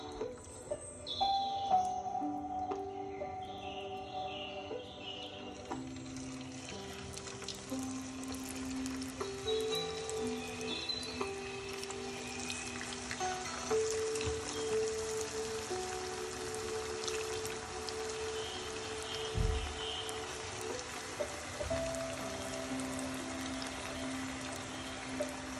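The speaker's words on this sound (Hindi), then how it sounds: "ऑयल हमारा गरम हो चुका है तो बस इसके अंदर हम डालेंगे।" Chicken tikka lacha pakora dropped into hot oil gives a steady, continuous frying sizzle and bubbling that runs the whole stretch, fairly close and even in level, with no talking over it.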